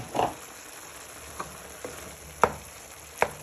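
Bacon frying with mince in a pan, a steady low sizzle broken by a few sharp spoon taps and scrapes, no talking.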